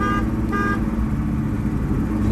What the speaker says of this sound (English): it's still got a working horn.